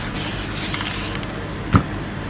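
A spray paint can hisses steadily for about a second, then a short, sharper burst of spray follows, close by with no talking, during spray paint art.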